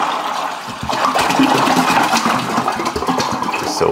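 Water poured into a pot to build up 2 gallons of brine for curing a country ham, a steady loud splashing and gurgling rush that continues throughout.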